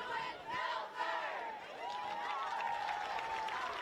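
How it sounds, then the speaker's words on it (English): A big home-bleacher crowd at a Milford Scarlet Hawks high school football game sends up sustained cheering and shouting, loud and continuous, with a sung or chanted wavering tone running through it. "A huge crowd here in the home bleachers."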